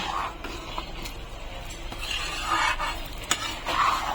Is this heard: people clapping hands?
no